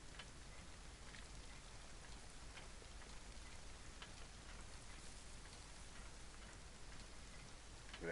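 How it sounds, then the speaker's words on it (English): Rain falls steadily in DayZ, a continuous fine hiss of drops pattering on surfaces at an even, moderate level with no other sounds. "A little bit of rain, and I don't mind being caught out in the rain."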